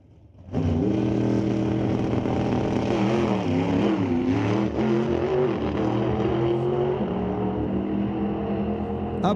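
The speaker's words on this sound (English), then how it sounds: "A bouncy start for Keith in his 68 Camaro. Makes it down the track" A 1968 Camaro drag racing down the strip at Mission Raceway Park, its engine roaring loud and sustained after a sudden start, with the pitch climbing and dipping through gear changes.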